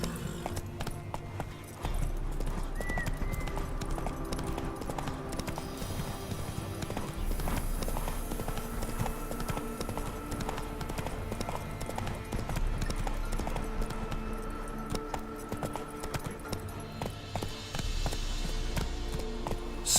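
In The Witcher 3, the horse Roach gallops with a fast, continuous clip-clop of hooves that stays close and steady throughout, over quiet in-game ambience.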